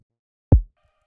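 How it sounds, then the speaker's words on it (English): A single deep kick drum hit made from a low-passed, resampled sample, a short boomy thump with quick decay, alone in near silence. "So here we have the kick I created."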